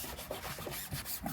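A fingertip rubs a vinyl decal onto the body panel of a first-generation JDM MX-5, making a faint, quick run of soft squeaky rubbing strokes close by.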